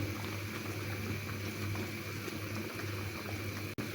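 Raw mango pickle simmering in sugar syrup, a steady low bubbling hiss that carries on evenly throughout, with one sharp click near the end.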